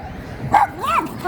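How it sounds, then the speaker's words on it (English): A small puppy gives a couple of short, high yips and a whimpering bark close by, outdoors among trees, with a person cooing softly around it. "Oh, little puppy dog."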